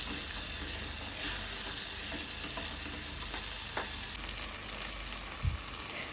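Prawn biryani masala sizzles and fries in a pan, a steady crackling hiss with occasional stirring scrapes and clicks, close and fairly quiet with no voices.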